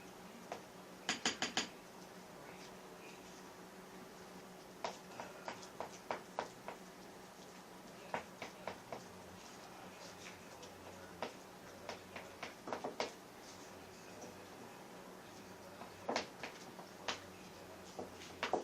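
Henna paste being mixed in a bowl, with a steady run of sharp clinking and scraping taps of a utensil against the bowl, close and fairly quiet, in irregular bursts with no talking.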